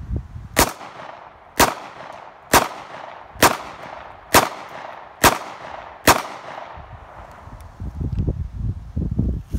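Seven sharp, loud gunshots from an Auto Ordnance Pitbull compact 1911 pistol ring out at a steady pace about one second apart, each with a short echoing tail, followed by a stretch of rustling handling noise.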